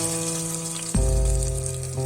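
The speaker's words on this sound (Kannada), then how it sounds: "ಈ ಒಗ್ಗರಣೆನ ಸಾಂಬಾರಲ್ಲಿ ನಾನು ಹಾಕ್ಕೊಳ್ತಾ ಇದ್ದೀನಿ" Hot tempering poured into radish sambar, hitting with a sudden loud sizzle and gush midway that keeps crackling steadily to the end, with no voices.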